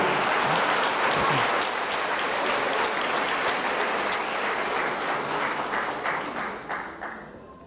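A church congregation bursts into sustained applause, dense and loud throughout, easing off slightly toward the end with no talk over it.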